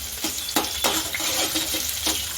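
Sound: chopped onion and grated ginger added and stirred in pan

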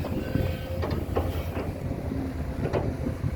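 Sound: Kato HD820-R5 excavator engine, Mitsubishi 4-cylinder

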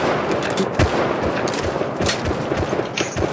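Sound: gunfire in a shooter video game

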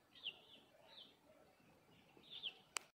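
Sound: birds singing in the countryside

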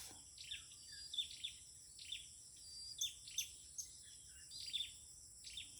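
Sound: hungry red-breasted bird calling near a trap

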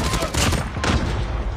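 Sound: gunfire in video game COD Mobile

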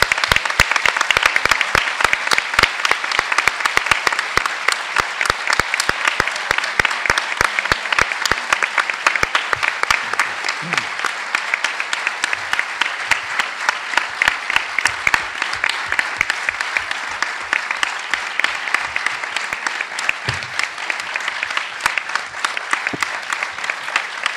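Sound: audience applause after a philosophy lecture

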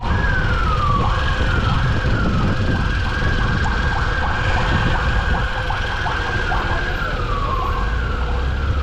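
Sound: fire truck siren

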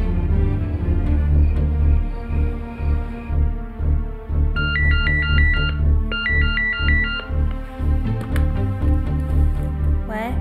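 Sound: telephone ringing during a call

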